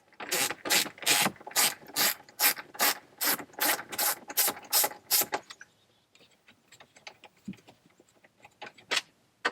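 A 7mm nut driver ratcheting bolts out on a 2021 Yukon, close rapid clicking strokes in a steady rhythm for about five seconds, then scattered softer clicks and handling noises, with no talk.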